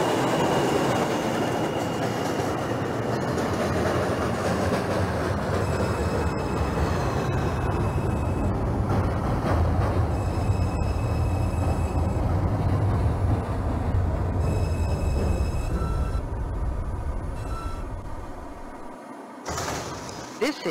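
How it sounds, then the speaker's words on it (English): Simulated NYC subway local train on the 2 line in the OpenBVE train simulator game, running steadily throughout with loud, continuous rumbling wheel and motor noise, rail clatter, and rising and falling tones, ending with a brief dip. "This is a Brooklyn College Flatbush Avenue bound two local train."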